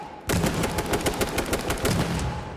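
Rapid automatic gunfire in the video game H1Z1: a burst of closely spaced shots that begins abruptly and rattles on continuously to the end.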